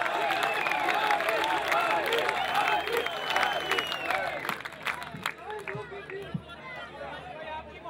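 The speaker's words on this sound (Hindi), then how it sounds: "भाई, तालियां बजाएं, तालियां बजाएं।" Audience at a mushaira in Karachi clapping and cheering, with loud, dense applause and crowd chatter that fades somewhat toward the end, and a voice talking over it.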